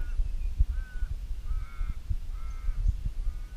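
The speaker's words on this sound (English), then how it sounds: "listen to the crows" Crows caw repeatedly at a distance, harsh calls spaced out over a low rumbling background.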